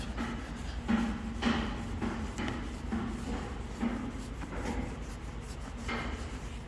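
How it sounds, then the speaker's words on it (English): A Norwex EnviroCloth with cleaning paste scrubs ground-in grime on a poured acrylic floor, giving a steady close rubbing and scraping sound with rhythmic back-and-forth strokes and no talking. "you can see where it was scrubbed with the cleaning paste"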